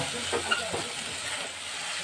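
Spices with sugar and kasuri methi fry in a pan for palak paneer, a continuous close sizzle and hiss with a couple of faint stirring clinks, brief and steady.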